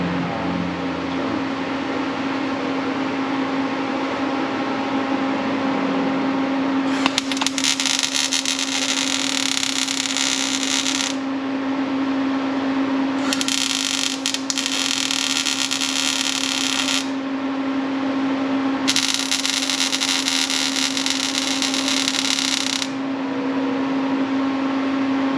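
MIG welding, a steady electrical hum broken by three long crackling, hissing buzzes of several seconds each, close and fairly loud.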